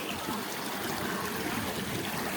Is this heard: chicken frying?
no